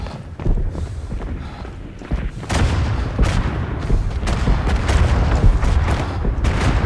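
Artillery fire in the First World War video game Verdun, heavy booms and rumbling blasts that grow denser after the first couple of seconds, with sharper cracks of shots scattered through the loud barrage.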